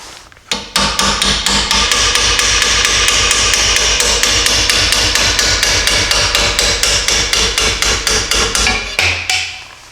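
Steady, rapid hammer blows on an old leaf spring bushing, dozens of loud ringing metal strikes in an even rhythm for most of the stretch, then stopping near the end.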